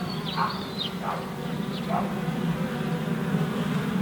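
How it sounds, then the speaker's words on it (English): Honeybees return to a busy hive entrance, some laden with pollen, near oilseed rape fields; a steady insect drone fills the air with a few brief louder buzzes passing close. "there's quite a few bees going in there with pollen on"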